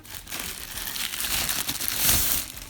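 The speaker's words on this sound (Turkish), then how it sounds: "Şu şekilde poşetinden arındıralım ve bir adet daha koruma kılıfıyla beraberiz" A plastic bag crinkles and rustles continuously as it is pulled off an Anker Soundcore Motion+ Bluetooth speaker during unboxing, close and fairly loud, with no voices.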